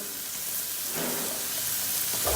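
Peppers sautéing in oil in a pot for chicken vermicelli pilaf, making a continuous close sizzle and hiss that swells slightly midway, with no one talking.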